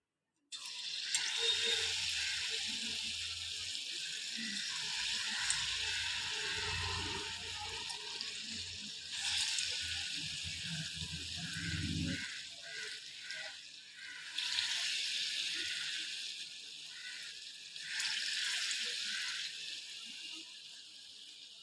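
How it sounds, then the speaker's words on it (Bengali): Ripe mango fritters frying in hot white oil, a continuous hissing sizzle close by that swells and eases in waves, with faint clatter and handling noises underneath. "এবার আমি বড়াটা ভেজে নেব"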